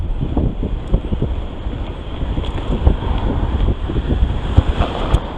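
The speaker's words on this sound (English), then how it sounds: "So you have a really strong headwind right now." Strong headwind buffeting the microphone while riding a Gazelle EasyFlow e-bike outdoors, a steady broadband roar with irregular gusty thumps throughout, no voices.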